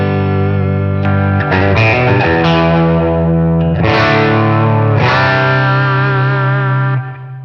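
A sustained electric guitar rings through a Boss Katana MKII amp on clean mode with about 25% green booster, mild grit and lush reverb and delay, several strummed chords blooming and decaying.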